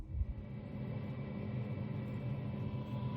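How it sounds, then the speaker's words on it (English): A biomass wood-pellet boiler's fan blows air into its combustion chamber, giving a steady, low, faint rumbling whir with no talk over it. "the noise you can hear is the fan blowing the air into that chamber"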